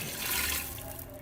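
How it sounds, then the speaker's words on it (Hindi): Half a glass of water is poured into a cooking pot holding beef for a pasanday dish, a brief splashing pour at close range. "अब मैं इसके अंदर हाफ ग्लास पानी ऐड कर रही हूँ।"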